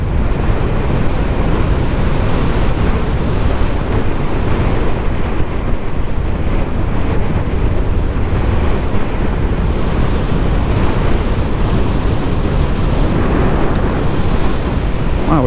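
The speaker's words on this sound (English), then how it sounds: "it's windy up here today" Strong wind buffeting a microphone on a hilltop in the UK's Peak District during a Honda CB500X motorcycle ride, a loud, continuous rumbling roar with no speech.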